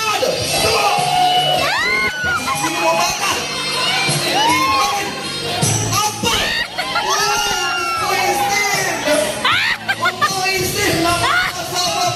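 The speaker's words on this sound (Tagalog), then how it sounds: "Palakpakan sigawan!" Wedding guests at a celebration in Infanta, Quezon cheer, shout and whoop loudly for the groom, a dense, continuous crowd roar with children's shrill cries and babble throughout, backed by steady music.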